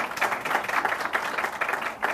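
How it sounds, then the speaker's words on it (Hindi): Sustained applause from a studio audience during a televised interview, a dense, steady wash of many hands clapping at once with slight swells, no voices over it. "तालियां भी बज गई।"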